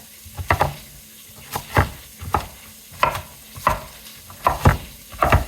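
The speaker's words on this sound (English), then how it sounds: "So as my sausage is cooking" Sausage cooking in a pan for potato leek soup, with a steady sizzle punctuated by regular clacking knocks of a utensil moving or cutting in the pan, close and fairly loud, no talking.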